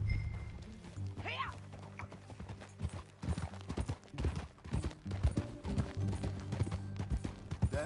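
Horse hooves clip-clop at a steady riding pace in Red Dead Redemption 2, soft repeated thuds running under people talking, with a low hum in the background.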